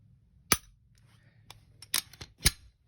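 Crisp clicks from dry-firing a striker-fired Glock pistol, several sharp isolated snaps at uneven intervals, close and fairly quiet, with no talking.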